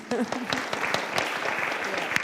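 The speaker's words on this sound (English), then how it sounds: "Can we clap for her?" Audience applauding a speaker at a conference plenary session on empowering change makers, a steady patter of many hands clapping close by, with a brief voice heard near the start.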